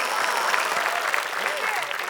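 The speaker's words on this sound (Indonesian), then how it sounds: "Tepuk tangan dulu dong." Studio audience applause on a lively Indonesian TV quiz show, a steady dense clapping that carries on throughout while voices talk over it.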